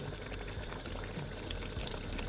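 Already-boiled tomatoes poured into a pot of tomato stew, a steady wet pouring and bubbling sound running continuously for a couple of seconds, close and fairly loud.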